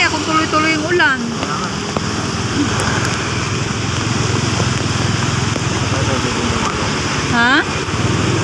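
Heavy rain pours steadily onto a flooded road, a dense continuous wash of water noise with a low engine rumble beneath, while people talk briefly over it near the start and end.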